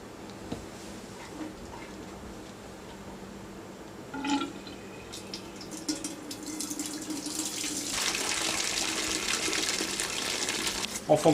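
Water draining out of a switched-off deep fryer during cleaning, a steady rushing pour that grows louder and broader partway through and continues to the end.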